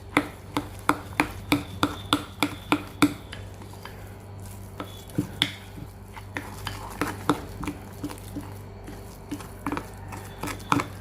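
A spoon stirs and scrapes a homemade butter, oil and cinnamon skin scrub in a bowl, giving a steady series of sharp clinks and soft scraping knocks, close and fairly quiet, with no talking.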